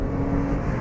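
A Porsche 911 Carrera 4S accelerating hard down a long straight at the Le Mans circuit. Its engine makes a loud, close, steady drone in one brief, continuous burst.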